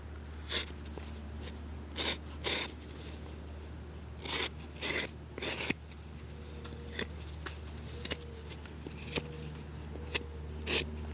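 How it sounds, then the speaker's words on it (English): Knife whittling the corners off a basswood block, with short, rasping shaving strokes that come in irregular clusters, some close together, across a quiet background. "I'm going to do my best to cut the corners off quickly before we get too much further here"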